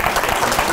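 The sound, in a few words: final round of applause for the audience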